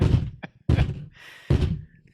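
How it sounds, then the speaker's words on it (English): Someone pounds on a table during a podcast recording, landing three heavy, loud thumps spaced unevenly, each one booming and then fading. "Oh, my God. The thumping."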